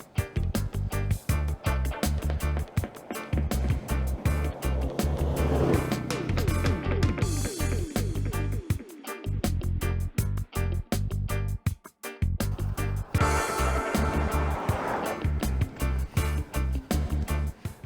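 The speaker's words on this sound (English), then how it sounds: "some cars just come flying through, giving you no room" Cars rush past close by on a road near Glastonbury, heard from an e-bike, their engines and tyres rising and falling in a steady loud wash of traffic noise with wind buffeting over it.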